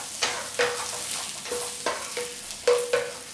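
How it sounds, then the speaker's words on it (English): Aubergine is gently stir-fried in oil in a pan, with a steady close sizzle and a handful of spaced scrapes and taps of the spatula against the pan. "So all we do is stir fry nice and gently, and as you can see, the aubergine has already soaked up the oil."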